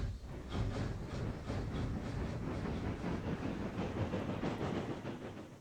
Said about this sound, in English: Chuff sounds start off new,